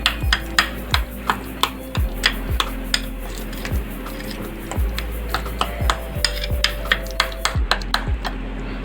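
Spices for a steamed mutton leg roast being mixed together in a bowl, giving repeated rubbing, scraping clicks in an uneven rhythm, close and moderately loud, with no talking.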